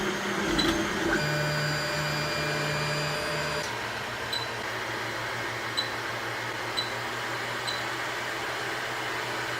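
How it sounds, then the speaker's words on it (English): An AnyCubic i3 Mega 3D printer at work, a steady mechanical hum with faint stepper-motor whine, periodic soft ticks and a brief higher tone early on, close and constant. "I can't interrupt the machine and go to tools while it's printing"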